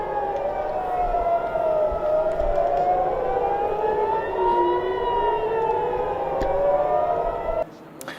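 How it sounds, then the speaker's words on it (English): A loud civil defense air raid siren wails continuously, its pitch sweeping slowly up and down before it cuts off near the end. "you can hear that siren"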